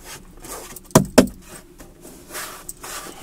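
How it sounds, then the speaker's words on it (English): A top A-pillar trim panel on a 1999–2007 Skoda Fabia is pulled outward so its clips seat. Two sharp, close plastic snaps come in quick succession, and soft rubbing and handling sounds surround them. "pull towards the outside of the car, making sure each clip is clipped into place nicely"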